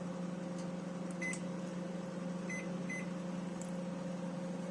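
Steady low hum of a microwave oven running at medium power, heating a frozen meal, constant and even, with a few faint high clicks or blips along the way.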